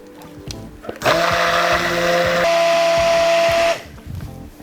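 An immersion blender runs in a pouring jug to emulsify a chocolate cream, starting abruptly with a loud, steady motor whir that shifts pitch partway through and stops after about three seconds, with faint clinks around it.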